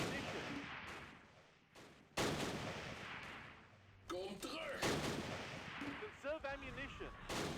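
Battlefield gunfire in the Close Combat war game at Arnhem rail bridge: several sharp, loud shots and bursts at irregular intervals, with brief in-game voices between them.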